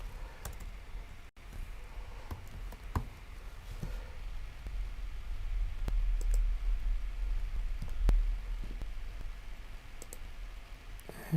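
Keys tapped and a mouse clicked on a Windows computer, sparse sharp clicks scattered over a low room hum, close and fairly quiet, with no talk.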